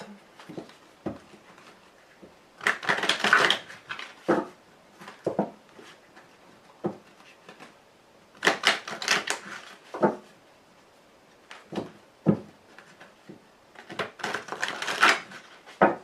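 Tarot cards being shuffled and cut by hand, giving bursts of crisp riffling and papery slaps in three main flurries, separated by quieter taps and handling noises, close and moderately loud.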